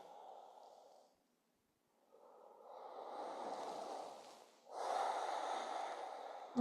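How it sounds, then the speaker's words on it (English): Slow, deep breaths during a restorative fascia-release session: a long exhale, a pause, then a fuller inhale and a louder exhale, close and soft with no talking. "We'll take 2 more breaths here."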